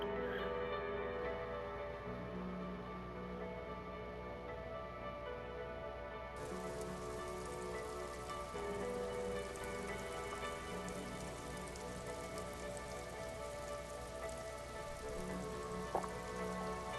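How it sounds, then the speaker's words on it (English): Steady rain falls on a town in the game Disco Elysium, a soft, even patter with low ambient tones underneath, with no talk and no pauses. "Does it ever stop raining in this town?"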